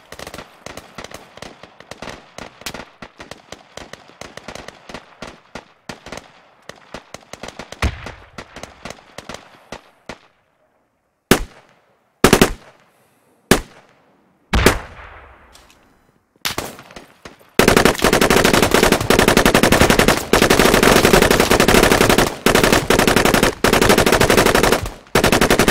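Machine gun fire in the video game Squad: bursts of rapid shots crackle at a distance, then isolated sharp loud reports, followed by a dense, loud, sustained stretch of nearby automatic gunfire.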